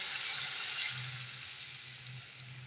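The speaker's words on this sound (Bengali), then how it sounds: "এবার আমি জল দিয়ে দেব" Water pours steadily into a pan of tilapia fish and tomato curry, a continuous close gushing stream at even volume, with no speech.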